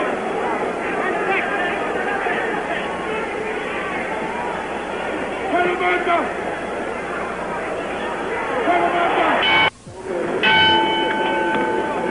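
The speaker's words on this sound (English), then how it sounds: "The bells for round 7." A boxing ring bell signals round 7 at the San Diego Sports Arena during the Muhammad Ali versus Ken Norton fight. It rings clearly near the end over a steady roar of crowd noise and chatter.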